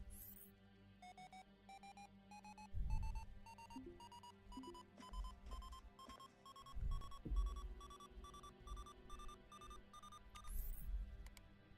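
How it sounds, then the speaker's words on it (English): Alarm in the Ostranauts space game, a repeating electronic beep pattern that climbs steadily in pitch, with bursts of low thumping noise underneath. "now the alarm shouldn't bother us"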